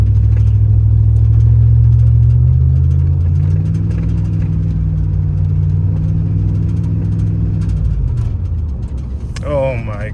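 A car engine with a rebuilt 4L60E transmission revs and holds high without shifting up, a loud sustained drone that climbs, lingers, then drops away, with a brief voice at the end.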